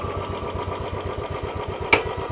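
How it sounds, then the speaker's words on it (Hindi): A Royal Enfield Bullet motorcycle, just kick-started, idles close by with a steady, rapid thumping putter, and a single sharp click cuts in near the end. "अब ये बाइक स्टार्ट हो गई है"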